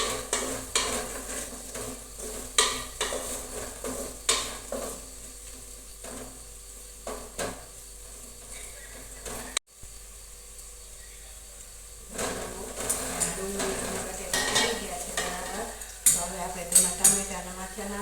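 Onion and potatoes frying in oil for pava bateta, stirred with a utensil that scrapes and taps the pan under a steady sizzle, with a brief drop to near silence midway before stirring resumes, alongside a tonal background.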